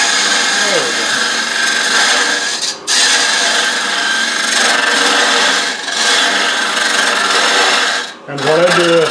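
Turning tool cutting into a wooden hollow vessel on a lathe, working down a drilled path; a steady, loud broadband scraping rasp with brief pauses as the cut lifts, close up and without talk.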